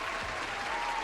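Audience applause at a comedy-style talk on content creation, a dense, even clapping wash filling the whole short stretch at moderate level.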